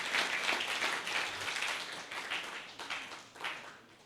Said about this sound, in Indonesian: Tepuk tangan yang sangat meriah kepada Good Lion Indonesia